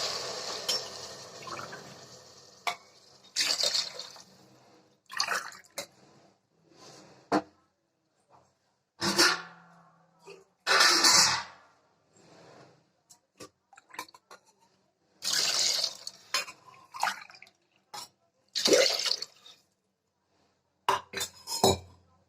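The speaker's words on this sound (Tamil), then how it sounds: "இதில் நம்ம அரிசி அளந்த டம்ளர்லேயே ஒரு நாலு டம்ளர் தண்ணி ஊற்றிக்கலாம்" Water is poured tumbler by tumbler into a pan of rice for pongal: several short splashing bursts separated by quiet pauses, with occasional clinks of metal utensils.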